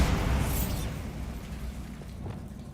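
Bombarda explosion spell in Hogwarts Legacy: a single dense, rumbling blast that hits loudest at the start and then slowly fades into a low, lingering roar with no voices.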